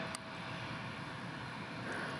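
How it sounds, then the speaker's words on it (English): Distant jet rumble from an American Airlines Airbus A321 arriving from San Francisco at DFW Airport, a steady broadband roar held at an even level with no voices. "It's American Flight 2904 from San Francisco. An Airbus A321."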